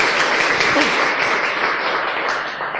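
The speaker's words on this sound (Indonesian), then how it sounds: "jadi tepuk tangan sekali lagi buat Bapak Ibu yang hadir di sini" A seminar audience breaks into sustained applause, a dense, steady wash of many hands clapping that holds fairly loud throughout and fades slightly toward the end.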